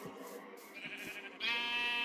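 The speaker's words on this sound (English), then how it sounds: "God, there's so much sheep." Sheep bleat in the video game Minecraft, a couple of faint bleats over a steady stormy wind-like background with no talking.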